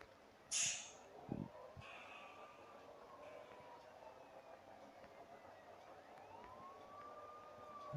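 Ambulance siren in the mobile game Bus Simulator, a faint wailing tone that rises and falls slowly in long sweeps under game ambience, after a couple of brief sharp clicks near the start.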